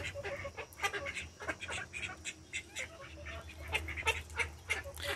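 Domestic ducks on a farm at night give a busy chorus of quacks and honking calls, close and overlapping, over a low steady background.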